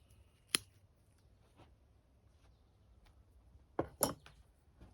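Pruning shears cutting the end off a cotoneaster bonsai branch, one faint crisp snip followed a few seconds later by a quick double snip, quiet and close with near silence between.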